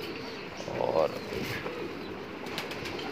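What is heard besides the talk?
pigeon cooing and flapping wings, Cheena pigeon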